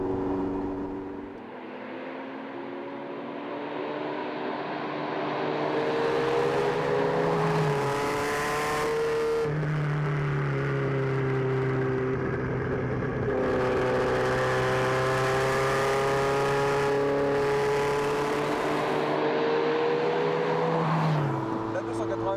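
A Ferrari 288 GTO engine revs up and down through rising and falling tones, loud and sustained for over twenty seconds, with a brief lull and a spoken voice partly over it.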